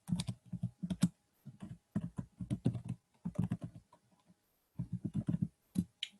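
Typing on a new computer keyboard, rapid bursts of crisp, close key clicks in uneven runs separated by short pauses, heard alone without talking.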